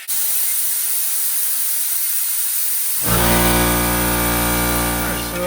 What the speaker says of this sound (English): We're gonna hit the trigger here and we'll watch for fluid coming through here.